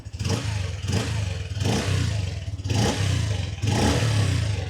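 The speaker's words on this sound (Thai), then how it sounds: "เบิ้ลกันสักนิดนึงละกันนะ เบาๆนะครับ ไม่ค่อยอยากจะเบิ้ลแรงนะครับผม" A 2025 PG1 motorcycle engine on a nearly new bike is revved gently in four short, even blips, each rising and falling over a steady idle, close by and with no talking.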